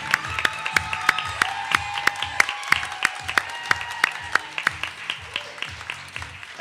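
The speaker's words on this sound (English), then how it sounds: "Give a round of applause." Audience applause at a state poetry recitation finals, a dense round of clapping from a hall crowd with sharp individual claps standing out, steady throughout and fairly close.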